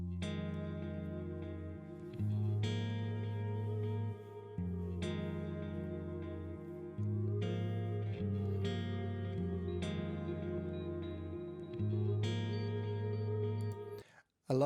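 Ambient rock instrumental led by a clean electric guitar soaked in reverb and delay, with sustained bass and steady drums in a loud, continuous mix that drops out briefly near the end.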